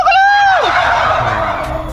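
A farmed turkey gobbles once, close and loud, in a quick warbling burst that falls away into quieter farmyard background noise.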